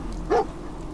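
Dogmeat, the dog companion in the video game Fallout 4, gives a single short bark, moderately loud against a low background of game ambience.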